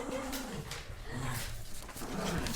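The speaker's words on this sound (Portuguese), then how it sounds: "É porque a Freda tá com o bichinho na boca e tem a Dorinha, que é a Piquitica, do lado" A small dog fussing with a toy in its mouth, giving muffled whining, grumbling tones that rise and fall over a few seconds. The sound is faint, with room noise behind it.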